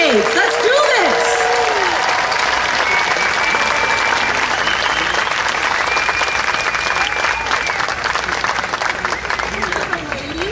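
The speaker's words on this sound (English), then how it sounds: "Everybody, can we clap our hands for that?" Loud, dense applause and clapping from a large crowd at the 2016 San Diego Pride rally, sustained for about ten seconds with scattered voices and cheers mixed in.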